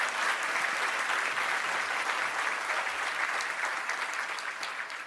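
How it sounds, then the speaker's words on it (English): An audience at a law enforcement awards ceremony applauds police award nominees with steady, dense clapping that stays even throughout and tapers slightly at the end, with no talking over it. "A round of applause for all these fine nominees."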